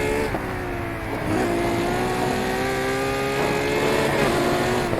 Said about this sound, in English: Supercharger sound. Listen to that.